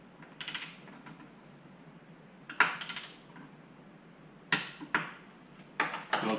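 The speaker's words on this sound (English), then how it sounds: "So I'm going to go through and torque them all." Torque wrench tightening exhaust X pipe bolts on a 2019 Corvette Z06, a few faint sharp metallic clicks and clinks in short clusters against quiet background.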